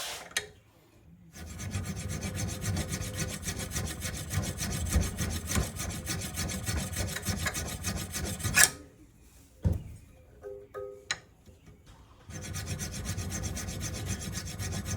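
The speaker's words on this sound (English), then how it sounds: "I'm not really powering with this filing. I'm just kind of filing really lightly." A hand file lightly rasps a wiper blade being shaped into a jaw harp, with steady scraping strokes that pause briefly twice before resuming, near and fairly quiet.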